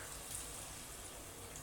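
Water is poured into a pan of cooking tomatoes, giving a soft, continuous splashing hiss that is faint and steady over its short length.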